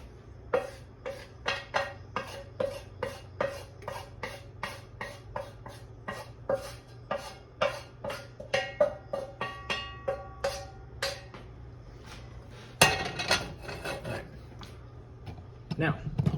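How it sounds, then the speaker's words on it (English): A wooden spoon scrapes beef short rib food into a slow cooker in a long series of rhythmic knocks and scrapes, with a burst of louder scraping near the end, all close and under a steady background hum. "I'm going to scrape the rest of this in with a wooden spoon"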